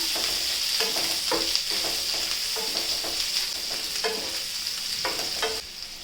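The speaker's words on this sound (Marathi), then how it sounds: "कांदा घालून घ्यायचा कांदा चांगला परतून घ्यायचा" Chopped onions sauté in a hot pan with cumin seeds, a steady sizzle carrying throughout while a spoon stirs in repeated scraping strokes, close and alone without talk.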